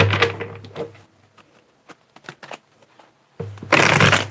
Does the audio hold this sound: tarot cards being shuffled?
yes